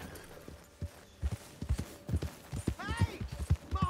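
Hooves of a horse in Red Dead Redemption 2 clip-clop in a steady walking rhythm, fairly close, with a low hum underneath and a short voice sound near the end.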